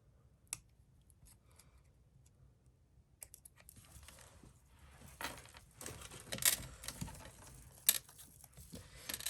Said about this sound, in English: I'm just going to fussy cut where her hiney is.